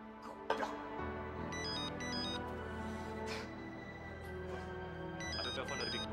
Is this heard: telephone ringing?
yes